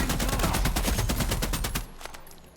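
Rapid, loud automatic gunfire from the video game The Expanse: Osiris Reborn, a dense burst of shots that stops abruptly with a few faint trailing sounds.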